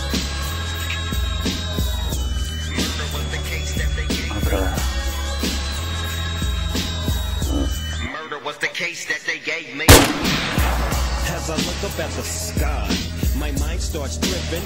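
A long-range rifle shot at 435 meters in the Arma 3 video game, a single loud crack followed by a rolling report, set against steady engine-like humming and other game sounds.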